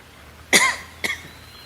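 Two short, harsh coughs from one person, the first stronger and the second a half-second later, close and isolated in a quiet room.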